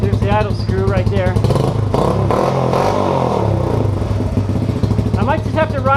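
A small engine runs continuously after an idle screw adjustment, a steady close putter with some clatter, while a person talks over it.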